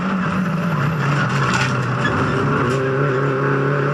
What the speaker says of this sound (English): raising the engine RPM to match the gearbox as you're down changing through the gears